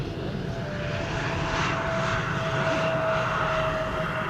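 An airliner landing at Lubuski airport, a loud, steady roar of engines sustained throughout with a faint whining tone, no talking.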